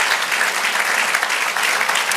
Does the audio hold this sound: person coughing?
no